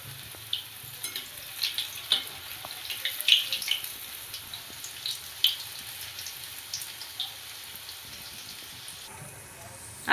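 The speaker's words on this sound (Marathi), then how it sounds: "आपल्या वड्या पण आता मी तेलामध्ये सोडून देते आणि मीडियम गॅसवर ठेवते" Kothimbir vadi fry in hot oil over a medium gas flame, giving a steady soft sizzle with scattered crackling pops and bubbling throughout, fairly close.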